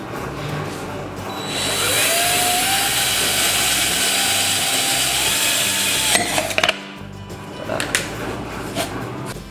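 A power drill bores a hole in the housing of a Hario V60 Buono electric kettle, whining loudly at a steady high pitch for several seconds before cutting out and leaving a few short clicks and knocks.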